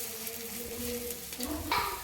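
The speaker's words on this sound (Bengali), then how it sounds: "এই বড়া ভাজাটা মুসুরির ডাল দিয়ে করেছি" Red lentil fritters frying in hot oil, giving a steady, moderate sizzle that swells briefly near the end as the batter crackles.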